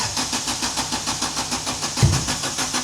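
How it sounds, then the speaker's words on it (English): A turbocharged Honda Civic, idle for two months, cranks over with a fast, even rhythmic pulse of the starter, then catches with a sudden low thump near the end before settling into a rough running note. "the first time the car is being cranked over in just over 2 months"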